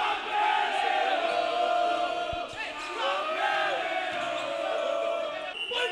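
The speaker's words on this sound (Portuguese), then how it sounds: "E agora a torcida agitada começa a gritar" A crowd at an amateur football match between Capela and Guerreiros Gaza shouts and cheers loudly and continuously. The massed voices swell in excited yelling with little pause.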